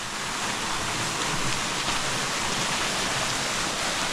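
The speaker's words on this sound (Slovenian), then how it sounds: "Zanimiv slapek, z lepim tolmunčkom." A small waterfall spilling into a pool in the Slovenian border region, heard as a steady, close rush of falling water that stays even throughout with no voices.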